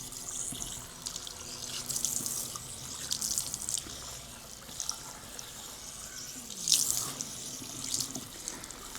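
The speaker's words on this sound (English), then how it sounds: "Just filling that up with water" A salon sink fills with water running from a tap during a shampoo, a steady close stream with occasional brighter splashes and gurgles, without speech.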